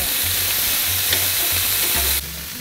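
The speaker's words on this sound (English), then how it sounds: "we're going to sear the meat about 2 to 3 minutes per side" Meat sears in a hot pan for birria tacos, a loud continuous sizzle with a few brief clicks and shifts as pieces settle, close and steady with no talk.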